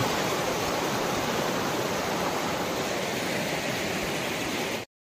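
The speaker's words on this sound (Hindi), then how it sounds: "ये फिर से पानी होना स्टार्ट हो गया यहाँ पे" Heavy downpour during a cyclone in Andhra Pradesh, a steady dense hiss of rain that stays loud and unbroken for about five seconds before cutting off abruptly.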